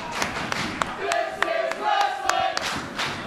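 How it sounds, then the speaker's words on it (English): Wrestling crowd at an RWA event roaring and chanting after a super kick, with loud sustained cheering punctuated by sharp claps or thuds. "Listen to this crowd."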